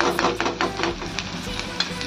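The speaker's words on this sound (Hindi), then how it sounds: "अब इनको प्याज थोड़े ब्राउन ब्राउन होने लगे तब तक भूनना है।" Onions frying in a pan with a green chilli tempering, stirred steadily, a continuous close sizzle broken by scraping strokes of a spoon, with no talking.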